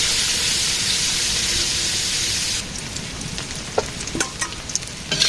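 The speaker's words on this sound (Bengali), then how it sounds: "মাছ ভাজি হয়ে গেছে" Fish frying in a pan gives a steady, loud hiss of sizzling oil for about half the time, then drops to a quieter crackle with scattered pops and spits.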